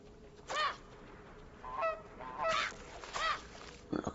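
Geese honk in the video game Knights and Bikes, a run of four or five nasal honks spaced unevenly over a few seconds against a quiet game backdrop.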